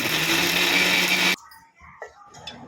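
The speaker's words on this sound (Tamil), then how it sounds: "சோம்பு 4 போட்டு நல்லா நைஸாக அரைச்சி எடுத்துக்கலாம்" An electric mixer grinds green chillies, cumin, pepper and fennel in a loud, close whirr for just over a second, then cuts off abruptly, leaving faint kitchen clatter and small knocks.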